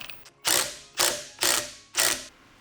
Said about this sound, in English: And then just get after it with the impact.